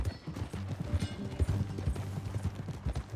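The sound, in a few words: horse hooves galloping in video game Red Dead Redemption II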